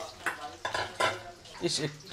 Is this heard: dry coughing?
no